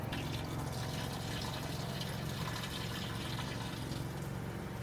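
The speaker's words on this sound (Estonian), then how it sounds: "Ma ei oska mitte palju kusada." A person urinates into a toilet in a bathroom on a remote Estonian island, a steady continuous splashing stream of liquid, close and fairly loud, with no talk.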